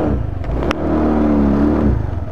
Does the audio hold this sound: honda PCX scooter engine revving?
yes